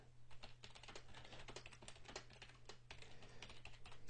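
Rapid typing on a computer keyboard, a dense run of clicky keystrokes with short pauses, close and fairly quiet over a steady low hum, no talking.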